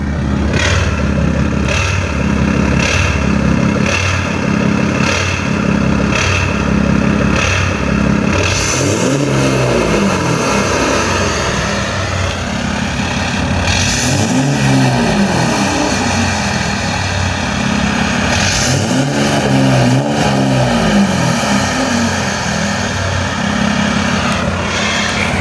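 Tuned and deleted Dodge EcoDiesel pickup truck engine idling loudly with a rough, clattering diesel note, then revving in three rising-and-falling bursts, close and continuous throughout.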